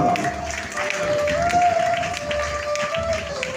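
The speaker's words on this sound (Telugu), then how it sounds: "ఒకసారి చప్పలు కొట్టండి" Wedding guests in Krishna Lanka clap together in a steady burst of crowd applause that runs through the clip, with a sustained tone and chatter in the background.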